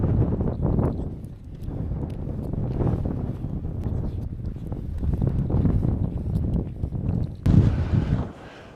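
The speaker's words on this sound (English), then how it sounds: "Hope you can hear me for this wind." Strong gusting wind buffets the microphone on a misty hillside above a remote Scottish beach, with a continuous loud rumbling roar and a sharper gust near the end.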